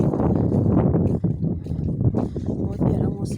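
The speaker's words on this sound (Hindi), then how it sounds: "काफ़ी हवा चल रही है।" Wind blows outdoors on a rooftop where washed clothes hang to dry, a loud, rough, gusting rumble pressing against the microphone while someone talks over it.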